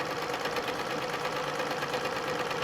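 A domestic sewing machine stitching ruler-guided quilting runs in a steady, rapid mechanical whir and clatter, loud and close, without pause.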